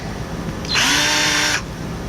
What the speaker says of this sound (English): So we got our board done with all the holes drilled into it.